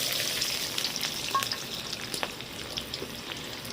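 Onion tempering in hot oil in a home kitchen, a steady dense sizzle with crackling pops throughout, close and constant with no voices.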